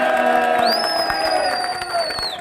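A group applauds and cheers at a birthday celebration for Shamim, with claps and whoops under a sustained tonal sound, likely a whistle or music, over a few seconds.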